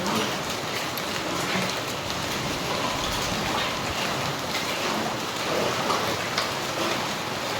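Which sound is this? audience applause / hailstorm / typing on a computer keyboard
hailstorm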